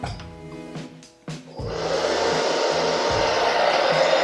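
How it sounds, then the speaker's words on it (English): A few light clicks and knocks, then a hair dryer switches on and blows with a steady, close whooshing roar while drying wavy hair. "And then you're gonna take your dryer."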